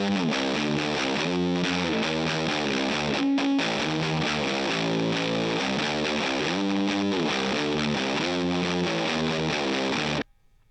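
A loud, distorted electric guitar riff played through a Proco RAT distortion pedal, chugging steadily with shifting chords for about ten seconds, then stopping abruptly.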